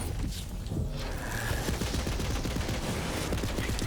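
A Jakobs gun firing in the video game Borderlands, a run of rapid, close, punchy shots with heavy recoil thumps, steady and loud over game noise.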